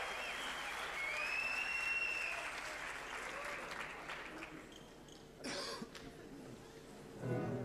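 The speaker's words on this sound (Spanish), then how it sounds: "Aplausos, por favor." Concert audience applauding a guitarist at a 2011 album launch show, a broad steady wash of clapping from a crowd, with a cough and scattered voices, fading before a brief burst near the end.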